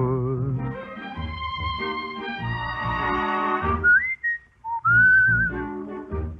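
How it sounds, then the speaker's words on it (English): A man whistles a song melody in clear, sustained tones. It comes after a sung line with orchestral backing and ends in a few bright, pitched whistled phrases near the close. "I love to whistle in the"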